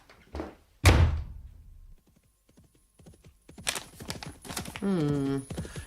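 Horse hooves clip-clop as a rider departs in a period drama, with a heavy thud near the start, scattered hoof beats, a neigh, and voices talking over the scene.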